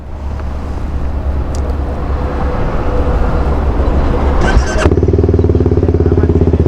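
Big 1,000 cc motorcycles in an endurance rally roar past close by, a loud rumbling engine noise that builds and then settles into a steady throbbing idle.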